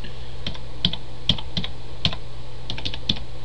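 Keys on a computer keyboard tap in a loose, uneven rhythm, roughly a dozen crisp clicks close to the microphone over a quiet room hum.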